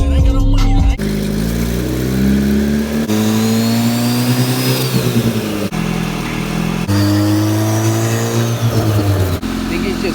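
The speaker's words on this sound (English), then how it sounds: "So hopefully in the next couple of minutes you guys will see the dyno going." A boosted Honda CRX engine revs hard on a dyno outdoors in the cold, its loud, sustained tone climbing and falling through several sweeping rev runs with brief drops between pulls.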